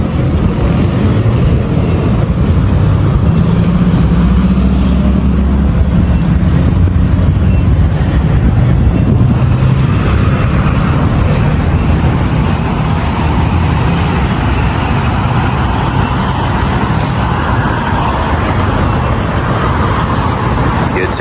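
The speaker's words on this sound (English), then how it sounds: "Wait for traffic again." Dense city traffic rolls along a business highway in downtown Cancún, Mexico, a continuous broadband roar of passing cars and heavier vehicles that rises and eases, with faint voices in the background.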